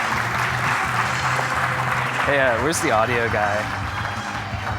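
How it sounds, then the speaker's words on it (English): Conference audience applauding a speaker at React Rally, a steady patter of clapping from a crowd throughout, with someone speaking briefly over it in the middle. "Give him a warm round of applause."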